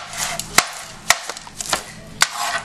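A knife chopping a leafy herb on a cutting board, with several sharp, close knocks at an uneven pace and no talking.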